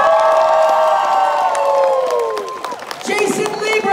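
A crowd at a My Hero Academia voice cast panel at Galaxycon Austin 2023 cheers loudly as cast names are called, with high whooping shrieks and screams riding over sustained applause, continuous and close.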